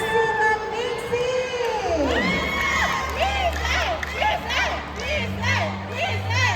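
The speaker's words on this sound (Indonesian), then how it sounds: "kita langsung berikan tepuk tangan penampilan dari Ibu Erna Susilaningsi" A crowd at a teacher competition final in Solo cheers and shouts with applause for a teacher's performance, lively whoops and voices over a sustained music tone, busy and loud throughout.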